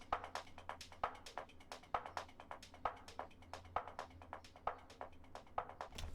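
Quiet deep trance / chill house drum loops run through a filter on a bus channel, a steady fast pattern of ticking percussion hits over a low sustained hum, with no voices.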